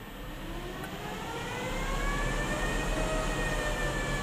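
An electric motor in a converted BMW accelerates in fourth gear, its whine climbing steadily in pitch and growing louder over a constant rumble of road and drivetrain noise.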